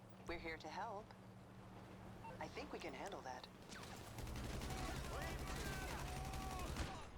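A GTA V Online shootout during a Special Cargo mission: voices and scattered sounds come first, then dense, rapid bursts of gunfire fill the second half, fairly loud and sustained.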